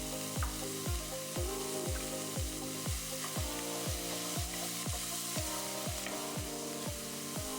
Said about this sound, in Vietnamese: Sau đó bạn cho cà rốt, tỏi vào đảo đều và xào thêm khoảng vài phút nữa.